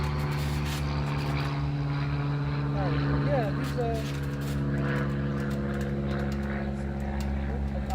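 Low droning engine hum of airplanes passing overhead, a steady rumble running through the whole stretch beneath someone talking casually.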